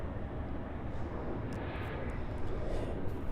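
Delta Embraer E175 jet airliner arriving at Los Angeles from Oakland, a continuous engine roar that is fairly faint and distant and grows slightly louder over a few seconds, with no talk.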